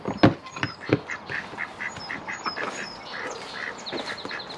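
Ducks quacking loudly and close while being fed, a run of harsh overlapping quacks and honks at first, followed by softer scattered calls and some higher chirps.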